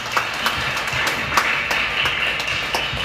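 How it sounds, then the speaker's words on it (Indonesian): Congregation clapping at a Sunday worship service: scattered, distinct claps over a soft bed of crowd applause, fairly close and steady for a few seconds. "Berikan tepuk tangan kita untuk Tuhan kita."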